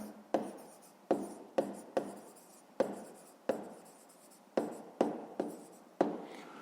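Pen strokes on paper while a rectangle-area answer is worked out for a fifth-grade maths exercise: about ten short, distinct scratching strokes in an irregular rhythm, close and fairly quiet, with no talk.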